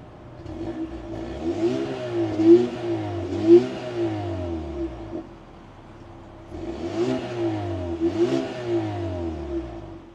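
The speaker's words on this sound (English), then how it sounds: "I'll see if I can get you guys a couple revs" A car engine revs twice in quick pairs, each burst climbing and falling back to a low idle, fairly close and clear with no talk.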